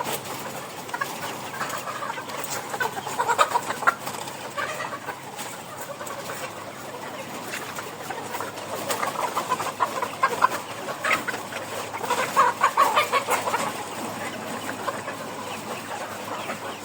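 Chickens at a poultry farm, a flock clucking and chattering nearby in uneven bursts that swell louder toward the end, with no voices over them.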